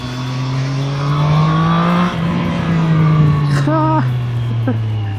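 A Triumph Street Triple 765 R motorcycle's exhaust screams loudly and steadily at high revs, briefly dipping mid-pass before climbing again, with a voice talking over it.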